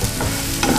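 Onions, chillies, tomato and peanuts fry with mustard seeds and cumin in hot oil, giving a dense close sizzle with a quick stir and a scrape of the spatula in a brief burst.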